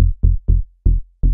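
Simple synth bass made in Serum, five short loud low plucked notes with quick decays and brief gaps between them, heard alone.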